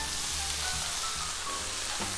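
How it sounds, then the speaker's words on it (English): Spicy Korean pork bulgogi (jaeyuk bokkeum) being tossed and stirred in its sauce in a hot pan, a steady broad sizzle with soft scraping stirs, close and continuous, no voices. "toss it all together and braise for about 3 minutes"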